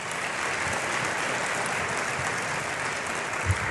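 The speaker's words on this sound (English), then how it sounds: "Would you join me in a round of applause for our board of directors?" Audience at a tourism bureau annual meeting applauds the board of directors, a steady, even wash of clapping that holds for the whole stretch at moderate level.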